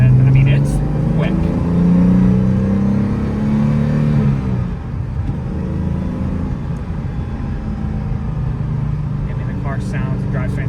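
A 1969 Jaguar XKE Series II engine revs up through the gears with a quick rev match on the shift, a loud close drone that dips in pitch mid-shift before settling into a steadier rumble.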